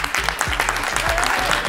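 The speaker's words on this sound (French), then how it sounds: "Et on peut applaudir Jérôme ici." Audience applause for a performer at a filmed improvisational theatre show, loud, dense clapping filling the room throughout with a few sharper claps standing out.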